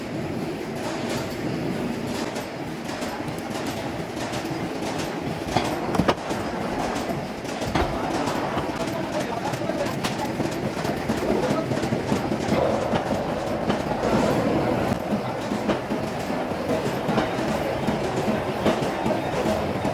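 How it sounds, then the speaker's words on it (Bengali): In a paper workshop, a cutting machine runs with a steady, loud rumble and rhythmic clattering mechanical clicks that carry on without a break under faint background activity. "Cutting machine."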